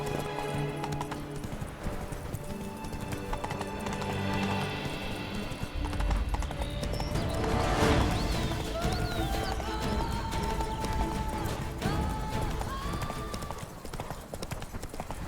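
Roach, a horse in The Witcher video game, gallops with rapid, close clip-clop hooves under a dense layer of game music and ambience, with a brief whinny-like sound near the middle.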